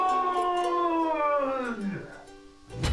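Cartoon dog giving a long, wavering howl that slides downward and fades, ending with a short sharp cry, loud and close.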